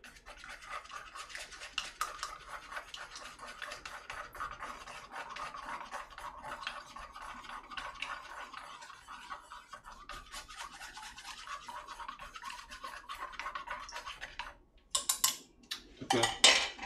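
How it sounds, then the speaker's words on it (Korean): A utensil whisks and scrapes a raw egg mixture for steamed eggs in a Korean earthenware pot, a steady close rubbing rhythm that ends with a few louder clinks. "한번 잘 섞어주고."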